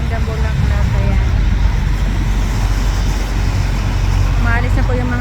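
Steady street traffic rumbles past in Mong Kok, Hong Kong, a dense, continuous wash of car, bus and truck engines at close to moderate distance, with a pedestrian crowd murmuring throughout.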